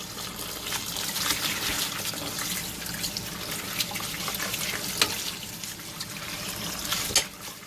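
Tap water runs steadily over shirataki noodles being rinsed in a sink, a close continuous gush with occasional splashes and clinks.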